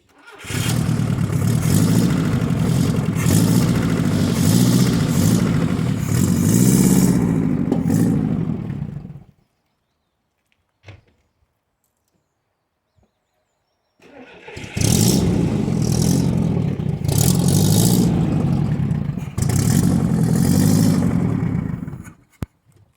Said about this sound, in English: So now we know that the car starts and runs.